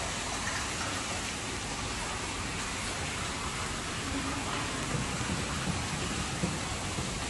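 Steady, soft splashing from a small water fountain in the garden area of an aquarium, a continuous even wash of falling water heard from some distance with no voices.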